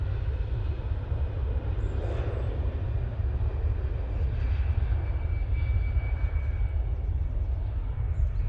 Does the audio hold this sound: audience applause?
no